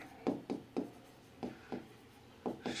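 Chalk or marker writing on a board during a Bangla probability lecture, with short rhythmic strokes and taps in quick clusters, close and fairly faint.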